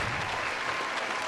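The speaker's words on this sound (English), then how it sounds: "Applause going crazy." A studio audience at a talk show applauds in a dense, steady wash of clapping that fills the short moment at close range.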